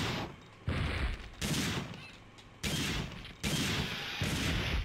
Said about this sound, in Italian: Tanto sulla fiducia io inizio a sparare